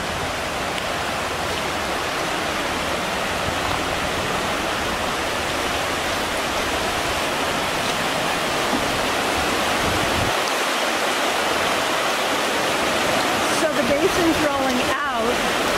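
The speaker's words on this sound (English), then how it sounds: "It's not going to probably be able to hear you because there's so much water noise." A waterfall roars in a dense, constant rush of water nearby, loud enough to bury the voices of people talking faintly under it.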